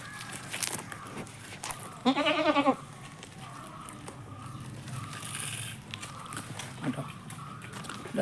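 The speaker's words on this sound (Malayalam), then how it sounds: "നല്ലൊരു ആട് നല്ല തീറ്റും കൂടിയുള്ള നല്ലൊരു സൂപ്പർ ആട്" A Malabari crossbreed dairy goat bleats once, loud and wavering, amid background chatter and other farmyard noise.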